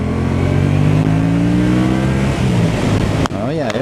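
A Yamaha MT-07 motorcycle engine accelerates under the rider, a loud close drone rising steadily in pitch through the gears over heavy wind rumble, with a quick shift near the end.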